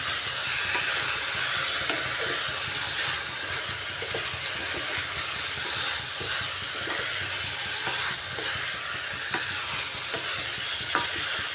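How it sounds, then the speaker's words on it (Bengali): Paneer cubes are sautéed and stirred in a hot pan, a continuous loud sizzle with repeated scraping and stirring clatter and no voices. "এবার পনিরটা দিয়ে দিচ্ছি এর মধ্যে পনিরটা দিয়েও একটু সময় কষিয়ে নিচ্ছি"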